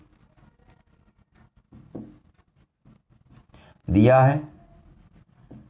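A pen scratches faintly across a board while someone writes out a circle theorem problem. The soft, intermittent strokes stay low in the background, and a short spoken phrase breaks in near the end.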